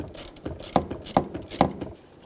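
Bolt on the pitman arm of a 2000-2006 Chevy Tahoe's steering being tightened by hand tool, a quick series of about four sharp ratcheting clicks close up with faint mechanical rattle between them.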